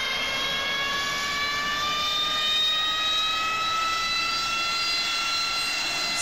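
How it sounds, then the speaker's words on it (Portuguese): A Harrier AV-8B Night Attack jet engine spooling up during a ramp start in DCS World: a loud, steady turbine roar with rising whining tones and a high hiss, constant throughout with no talk. "Rapaz, olha o barulho do motor."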